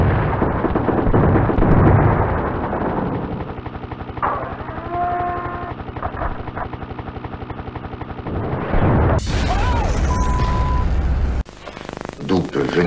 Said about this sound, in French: D'où peut venir cette explosion?